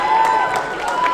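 Audience applause at an awards ceremony for content creators, a dense steady wash of clapping and light cheering under a faint voice, filling the whole moment.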